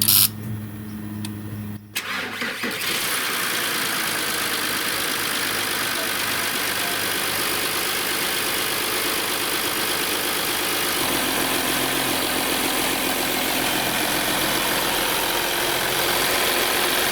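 A 2012 VW Touareg engine starts and settles into a steady idle just after an oil change, a continuous close running hum with a slight shift in tone partway through, no talk over it.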